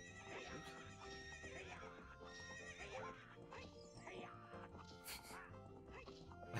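The horse Epona neighs and whinnies over rapid clip-clop hoofbeats in Ocarina of Time, mixed with game music and effects, with a voice talking now and then.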